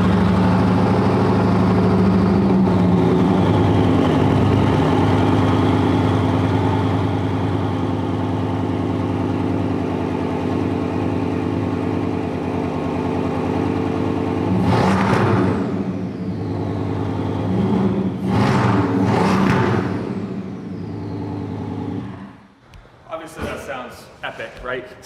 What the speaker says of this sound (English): I'm gonna turn it on so you guys can hear the exhaust, because it sounds pretty cool